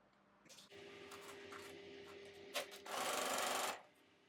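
A sewing machine stitches quilted fabric for a makeup bag, giving a steady whirring hum with a faint tonal drone. A brief knock comes near the end, then a louder, denser burst of stitching before it stops.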